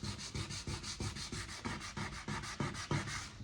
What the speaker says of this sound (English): Then I sand the strips